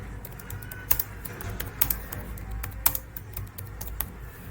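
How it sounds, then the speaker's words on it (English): Someone types random text on a computer keyboard, with a steady run of close, light clicks and a few sharper key strikes, no talking. "So I am just going to write anything, just random texts."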